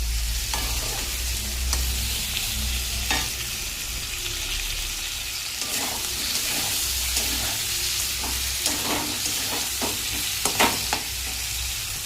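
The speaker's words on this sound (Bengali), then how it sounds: "এবারে এটাকে ভালো করে ভাজা ভাজা করব" Chicken pieces seasoned with salt, turmeric and ground pepper fry in a pan, a continuous dense sizzle with occasional spatula stirs and scrapes, close and steady throughout.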